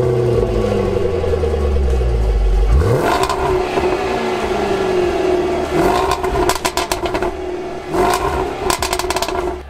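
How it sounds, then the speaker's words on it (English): A 2019 Jaguar F-Pace SVR's quad exhaust revving, a loud deep blip that climbs sharply, then settles into a burbling idle punctuated by crackles and further short throttle stabs. "these pipes are real and they sound really good"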